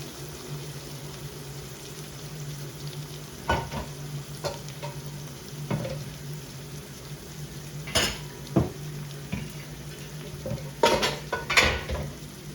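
Pots, pans and metal lids clatter and clank in a home kitchen while someone searches for a lid during chicken dopiaza cooking, with scattered sharp knocks over a steady sizzle from the curry pan.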